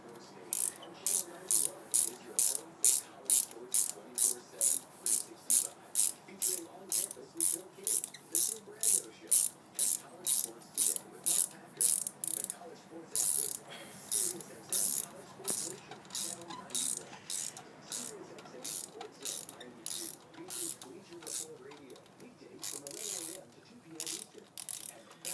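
Rapid, regular clicking of a ratchet removing a spark plug from a 2012 Ford Focus SE engine, dozens of close crisp clicks in a steady rhythm that slows slightly later, with no talk.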